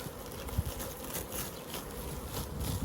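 Honeybees buzzing around an open hive during swarm-prevention work, a faint, steady, dense hum of many insects with small flutters of nearby wingbeats and no voices.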